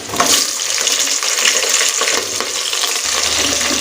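Onions going into a hot pan of oil with garam masala spices for chicken tikka biryani, a steady loud hiss and crackle that fills the whole stretch, with faint metal scraping underneath.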